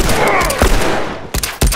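Gunfire in The Last of Us: a short string of sharp, loud shots with brief gaps between them.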